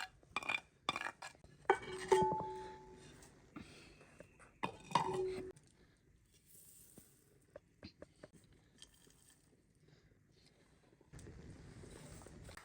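Roasted dry fruits tipped into panjiri in a pan, with clinking spoon and pan knocks and small rattling bursts early on, then quieter scraping taps and a faint rustle near the end.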